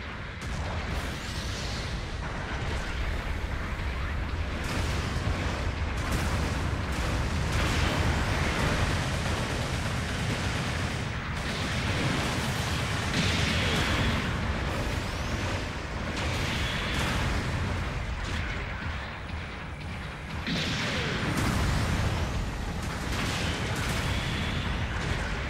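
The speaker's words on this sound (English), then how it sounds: "Long range supporting fire incoming." Sustained long-range supporting artillery fire in Gundam Battle Operation 2, a continuous roar of overlapping explosions and blasts at steady high loudness throughout.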